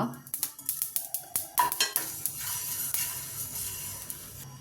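Spices for homemade sambar masala, fenugreek seeds, mustard seeds, black pepper, coriander seeds and cumin, being dry-roasted and stirred in a pan: repeated metal scraping clinks in a steady rhythm over a soft sizzle and hiss, close and fairly loud.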